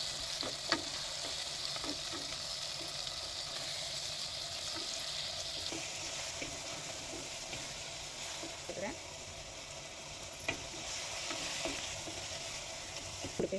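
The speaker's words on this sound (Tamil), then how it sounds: "தக்காளியும் போட்டுக்கிறேன் அதையும் போட்டு நல்லா வதக்கிங்க" Tomatoes sautéing for a chicken curry with cashews, a steady soft sizzle running throughout with occasional spoon scrapes and taps, faint and close, no talk.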